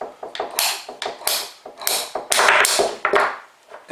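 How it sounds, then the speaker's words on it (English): A ratcheting pipe cutter bites through PVC pipe during a plumbing repair, giving a close series of sharp clicks, creaks and crunching bursts in an uneven rhythm with no talking. "Now I prefer to use a pipe cutter because it's much easier"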